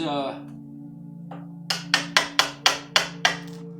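A hammer strikes a chisel carving foam seven times in quick, even succession, each hit a sharp close tap over a low steady hum.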